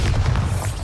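A Bombarda blasting spell in Hogwarts Legacy detonates as a short, heavy, booming burst, loud and dense throughout, with no voices.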